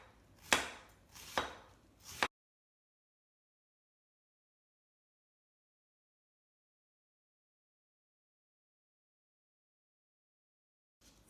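A knife chops white cabbage into strips on a board, three crisp, close cuts in quick succession, then a long silence before a final soft cut.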